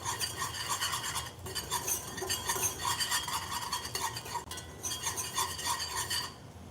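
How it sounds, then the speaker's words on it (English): Hot chocolate milk boiling in a pot is stirred with a utensil, giving continuous scraping and rasping strokes against the metal with bubbling sizzle underneath, close and steady with brief pauses. "So I'm just gonna mix it for a few more seconds"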